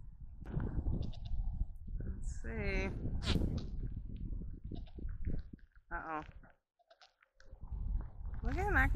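Goats on a farm bleat several times, wavering cries rising over close-up chewing, rustling and handling noise, with people speaking nearby between the calls.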